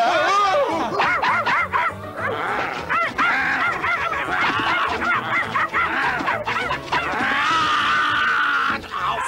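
Small dog yipping and barking repeatedly in a staged Wizard of Oz audio story, set against a loud, busy background of music or effects that runs throughout.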